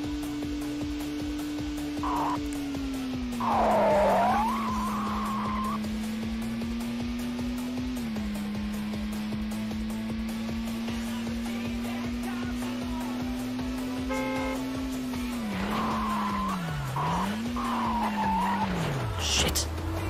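Race cars in the racing game Test Drive 4: a steady droning engine whose pitch climbs and drops with gear changes, broken by several loud tire squeals and skids on corners.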